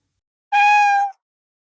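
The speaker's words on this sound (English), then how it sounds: "Cat. A small furry animal that loves to play and sleep." A cat gives a single clear, loud meow lasting about half a second, with silence before and after.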